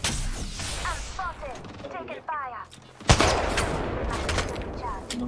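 Gunfire during a match of the video game Apex Legends: bursts of rapid shots that end in a sharp loud blast, with a player's voice talking over the shooting.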